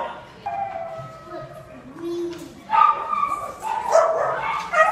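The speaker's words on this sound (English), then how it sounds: "So we're gonna go into the room where they keep the doggies." Several dogs inside a hurricane shelter bark, yip and whimper, close and overlapping at moderate loudness, with a voice heard faintly in the background.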